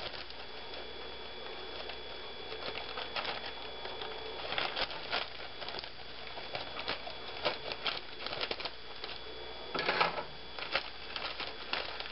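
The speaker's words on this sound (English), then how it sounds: "just cut the bag open here" Scissors or a blade cutting open a plastic bag of coleslaw cabbage, a string of small crinkly snips and rustles over a steady faint background hum, with a few sharper crackles standing out near the end.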